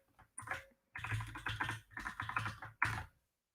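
A password is typed on a computer keyboard, close quiet bursts of rapid key taps in a few short runs with brief pauses.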